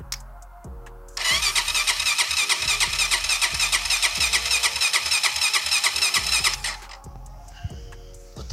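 A Honda 400EX ATV that had sat for years, boosted with a jumper box, cranks briefly then fires and runs in a loud, close, rapid rattling putter for several seconds before cutting back to a ticking, uneven idle.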